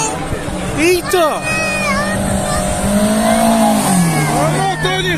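A car engine with a worn valve cover gasket revs hard near a lake outing, rising and falling whine amid lively crowd chatter and shouting.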